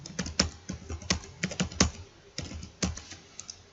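Keys tapped on a computer keyboard while entering data into an Excel spreadsheet, a brisk, irregular run of close clicks and clacks with brief pauses, no voices.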